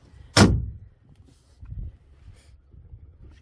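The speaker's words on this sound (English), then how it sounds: "Inside the console door, it's a very solid door." A solid console door on a 2025 Xpress H22 bay boat shuts with one sharp, close thump, followed by a few faint knocks and shuffles.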